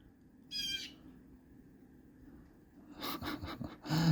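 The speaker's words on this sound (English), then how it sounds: "there's like blue jays up in the trees right here" Blue jays call from trees in Bellport, New York, a harsh burst early on, then a busier cluster of loud calls near the end over faint outdoor background.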